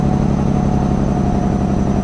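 A Detroit diesel truck engine idles steadily with a deep, continuous rumble, close and loud throughout.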